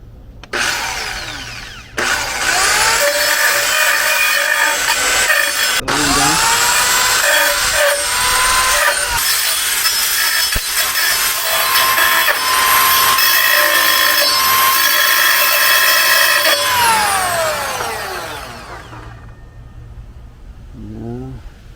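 Loud, sustained whine of a power saw cutting through a metal bracket on a 2013 Chevy Equinox for most of the clip, starting abruptly and winding down near the end.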